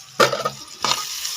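Garlic hits a hot pan for an Indian-style egg curry, giving two short bursts of frying crackle and stirring, the first louder, with a softer sizzle trailing after each.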